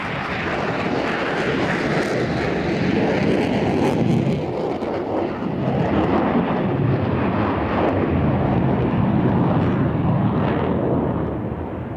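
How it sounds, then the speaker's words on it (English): A McDonnell Douglas F/A-18C Hornet fighter jet flies past at an airshow, its engines giving a loud, steady, broadband roar that holds for the whole stretch with no voices. "As is the McDonnell Douglas, now Boeing FA-18C Hornet, an extremely effective multi-mission fighter bomber"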